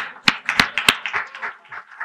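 A crowd of several thousand at a December 2013 fireside chat event applauds in scattered, uneven claps, with a few sharp loud hand claps standing out early before the clapping thins and fades.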